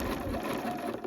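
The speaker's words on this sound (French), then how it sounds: "Donc ici également une marche arrière pour renforcer." A domestic sewing machine runs continuously in a short, fast, even whir while back-stitching to reinforce the seam of a Sweety vest, heard up close with no voices.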